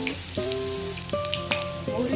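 Mustard seeds and cumin frying with garlic pieces in hot oil, a soft close sizzle with small pops, under steady tonal background music.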